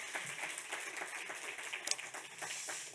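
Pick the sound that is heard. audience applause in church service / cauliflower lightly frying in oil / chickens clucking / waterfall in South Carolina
audience applause in church service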